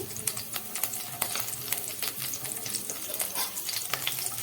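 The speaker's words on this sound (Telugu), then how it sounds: "ఇందులోనే ఆనియన్ వేసి వేయించుకోండి" Onion and urad dal fry in hot oil in a pan, giving a steady close crackling sizzle with dense irregular pops and no voices.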